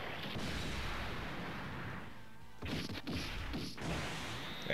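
Neo Double Hand Beam Cannon attack in Dokkan Battle: a low rumbling charge, then a series of sharp booming impacts and whooshes, loud and alone.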